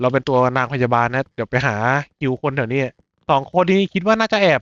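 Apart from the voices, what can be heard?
No distinct noise like a dog, phone or traffic.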